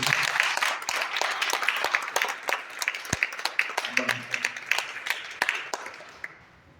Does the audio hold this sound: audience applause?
yes